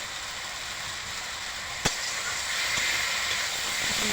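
Food being stirred in a pan after salt and turmeric go in, giving a steady broadband sizzling hiss throughout with one sharp clink partway through and no voices.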